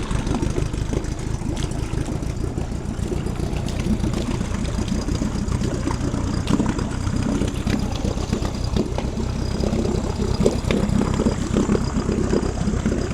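A four-stroke outboard boat motor runs at a steady idle, a loud, even engine drone with a constant low throb that holds unbroken throughout.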